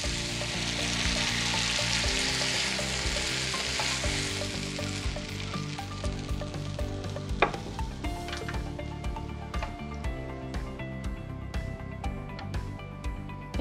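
Mushrooms fry in a pan as the vinegar cooks off, a dense, steady sizzle that gradually thins and crackles, with a sharp utensil clink near the middle and light stirring scrapes.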